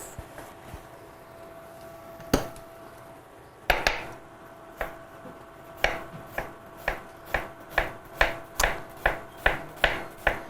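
Onions being chopped with a knife on a board, sparse cuts at first, then a steady run of sharp rhythmic chops, close and fairly loud, with no talking.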